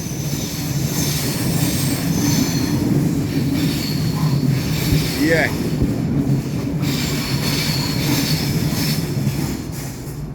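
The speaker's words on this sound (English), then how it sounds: "So that is a cement train, you know." A loaded cement freight train rolls steadily past a station platform, a loud continuous rumble of wagons with wheel squeal rising midway and a brief spoken word over the roar.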